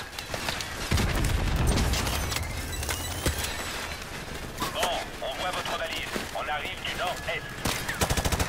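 Gunfire in Call of Duty Modern Warfare Remastered in a marsh level, bursts of automatic rifle fire and loud shots cracking in rapid succession, with a heavy barrage early on, while a player talks over it.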